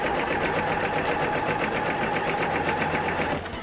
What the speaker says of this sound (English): So I'm just sewing it together.